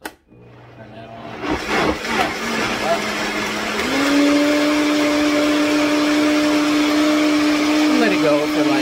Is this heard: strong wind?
no